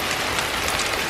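Rain mixed with hail pours down outdoors, a loud, dense, continuous hiss of drops hitting surfaces with no break.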